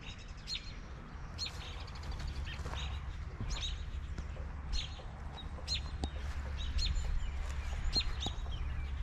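Chickens on a homestead with a compost area and free ranging, repeated soft clucks and higher calls scattered across a quiet outdoor background with a low steady hum, no one speaking.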